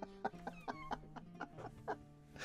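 A rooster gives a quick run of rhythmic clucks, close and fairly loud, each burst short and sharp over a faint low background.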